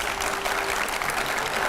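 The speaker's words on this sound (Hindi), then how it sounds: "जोरदार तालियां उनके लिए" Studio audience applause on a television debate show, a brief burst of dense, steady clapping at full strength with no pause.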